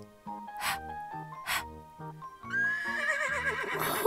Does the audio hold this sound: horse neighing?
yes